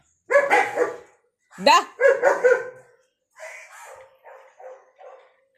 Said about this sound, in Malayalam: കുറേ അപ്പുറത്തെ ഒരു വീട്ടിലെ പട്ടിയാണ്